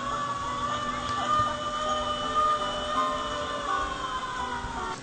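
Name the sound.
fire truck siren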